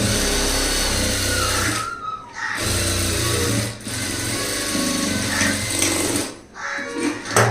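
A sewing machine stitches a front gap blouse in loud, steady whirring runs, stopping briefly a couple of times before starting again, close up with no talk.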